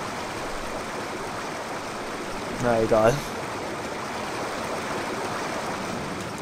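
Flowing water in the Indiana Jones game Tal der Olmeken, a steady rushing stream that runs continuously throughout, with someone briefly speaking over it midway.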